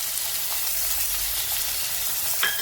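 Coarsely crushed garlic sautéing with onion and tomato in a pan: a steady, close hiss of frying throughout with a faint clink near the end, no talking.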